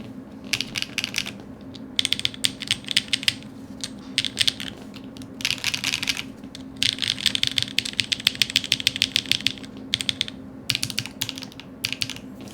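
Rapid mechanical keyboard typing on a DK1-TKL tenkeyless board fitted with HMX switches and brass and copper weights, crisp clacking keystrokes in bursts with brief pauses, close and steady throughout.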